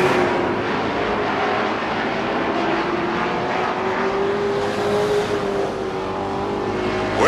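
Late model sportsman race cars circling a speedway, a dense continuous engine roar with wavering pitch as the pack passes, loud and steady throughout.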